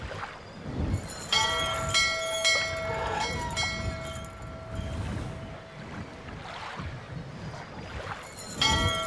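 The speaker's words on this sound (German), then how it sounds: "Aber wozu brauchen wir die Glocke?" A bell in the Syberia video game rings with struck metallic tones that linger and overlap, repeating a few times over a soft, steady ambient game backdrop.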